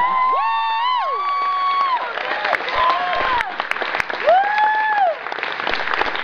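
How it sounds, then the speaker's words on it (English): Late-night cabaret crowd applauds after a new song, clapping mixed with loud whoops and high cheering shouts that rise and fall over the continuous clapping. "Can we get a fucking round of applause for that?"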